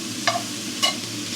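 Onion caramelizing in a pan for Ankara tava, a one-pan Turkish beef or lamb dish, gives a low, steady sizzle close by, marked by two short metallic clinks.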